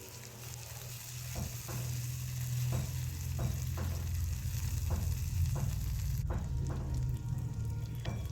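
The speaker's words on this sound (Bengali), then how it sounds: "এবার আমি দিয়ে দিচ্ছি কুচানো টমেটো।" Chopped tomatoes sizzle in a hot pan for a Bengali malai pabda fish curry, with a spatula scraping through them in regular strokes over the steady close frying; no one talks.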